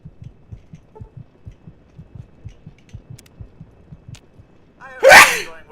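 In the video game Fallout, a character lets out one loud sneeze near the end, after a steady, soft rhythmic thumping that throbs like a heartbeat in the background.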